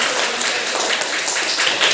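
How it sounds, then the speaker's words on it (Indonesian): Classroom students clapping hands together, a dense, steady burst of many overlapping claps at close range lasting throughout. "Oke, kalau gitu kita berikan tepuk tangan dulu."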